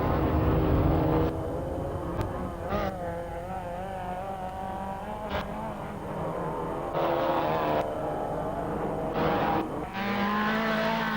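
Off-road race cars compete in a 1990 off-road grand prix, with engines droning and shifting pitch continuously at moderate distance and short gear-change dips between laps of steady roar.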